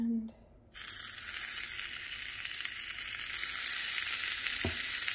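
Bacon frying in a nonstick waffle maker, a loud, bright, continuous sizzle that starts abruptly after a brief quieter moment and holds steady, growing slightly stronger toward the end.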